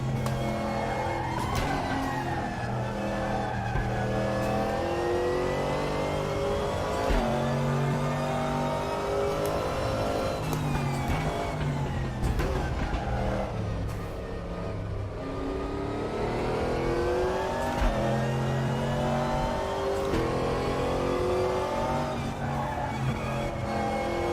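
GT3 race car engine on a casual warm-up lap at Bathurst's Mount Panorama in a sim racing game, a steady droning engine note rising and falling through gear changes and revs, continuous and close with no talk.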